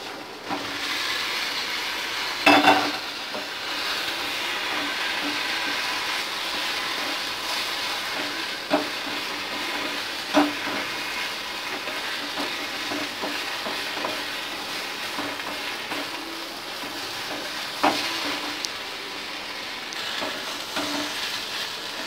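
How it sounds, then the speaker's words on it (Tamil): Drumstick (murungakkai) poriyal with grated coconut frying in a pan, a continuous close sizzle broken by occasional scraping stirs and clunks of a spoon against the pan, no voices. "இந்த முருங்கைக்காவை இந்த தேங்காய் கூட சேர்த்துக்கலாம்."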